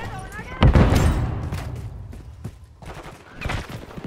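Video game gunfire from Call of Duty multiplayer objective capture, with a heavy burst of shots and booms up front, then scattered sharp reports fading and returning, while in-game voice chatter runs underneath.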